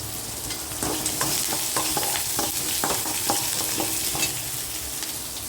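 Sliced big onions tempering in hot oil hiss continuously up close, while a spoon scrapes and taps against the pan in an irregular rhythm throughout.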